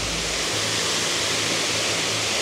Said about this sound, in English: I love waterfalls. I love how the water is slightly in the air.